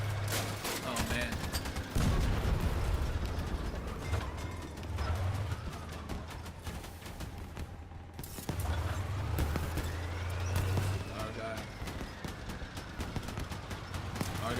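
Rapid vehicle-mounted weapons fire in the Crossout combat game, steady clattering bursts over engine drone and mechanical noise, with voices talking on top throughout.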